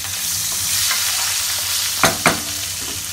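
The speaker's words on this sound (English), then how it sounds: "Mix it again. Now add the boiled potatoes" Boiled potatoes with asafoetida sizzle in a hot pan under a steady crackle, broken near the end by two sharp scraping stirs of a spatula.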